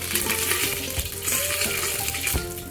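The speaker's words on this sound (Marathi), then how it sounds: "दालचिनी घालू मसाल्याचे सुद्धा घालूया थोडंसं तेलामध्ये परतून घेऊ" Cinnamon and bay leaves frying in hot oil in a pan for pea rice, with a dense continuous crackling sizzle and a few soft utensil clinks nearby.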